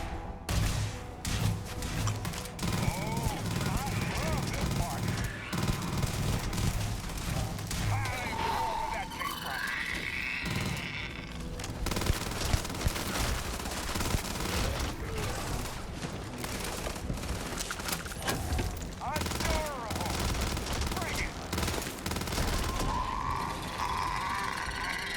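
Rapid, repeated gunfire bursts from a weapon in the space game Starfield, mixed with impacts, combat effects and music, while someone talks over the shooting.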